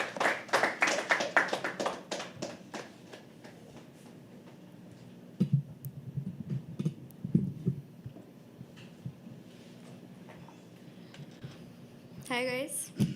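Applause from the audience at a poetry open mic, lively for the first couple of seconds, then thinning into scattered claps as a voice talks over the room. A brief high squeal or whoop rises near the end.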